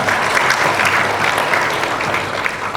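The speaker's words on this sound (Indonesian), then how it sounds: "Tepuk tangan buat Kadis kita." A room full of people claps steadily and loudly, a dense, sustained burst of applause with no talking over it.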